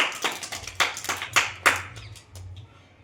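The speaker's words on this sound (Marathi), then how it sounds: "टाळ्या वाजवा सगळ्यांनी" Young children in a classroom clap their hands in a loose, uneven burst of sharp slaps that starts strong, peaks, then thins out into a few scattered, fading claps, with no voices over it.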